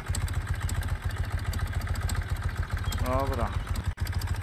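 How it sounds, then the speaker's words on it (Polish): A motorcycle in the Farmer's Life farming video game idles and rumbles with a steady low chugging beat throughout, while someone talks over it. "Wsiadamy w motor, jedziemy, moi drodzy."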